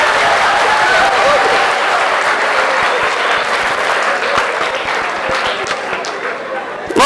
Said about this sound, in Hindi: अब की ताली बजाना